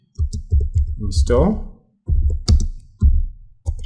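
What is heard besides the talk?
typing a command on a computer keyboard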